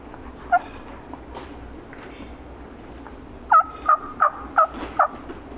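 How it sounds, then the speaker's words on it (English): Wild turkey gobblers gobble near a road, one gobble early then a rapid series of five loud, fairly close gobbles near the end, over quiet outdoor background. "I think that turkey that I can see is a gobbler."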